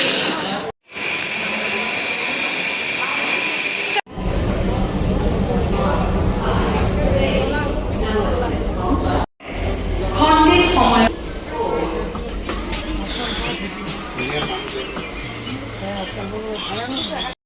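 Rumbling, hissing station ambience with a train engine idling, steady and loud, with brief breaks and people talking throughout.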